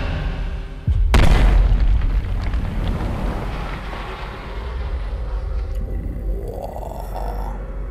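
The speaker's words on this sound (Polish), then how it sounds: "Wybuchnęło trochę." One loud, deep boom from an explosion in the video game Middle-earth: Shadow of Mordor hits suddenly, then a long rumbling roar slowly fades under steady game ambience.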